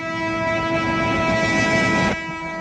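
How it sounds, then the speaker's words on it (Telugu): A loud, sustained train horn blares over the rumble of rail cars as a passenger train starts to leave the station, then cuts off near the end, leaving the steady rolling noise. "అయ్యో, ట్రైన్ స్టార్ట్ అయింది."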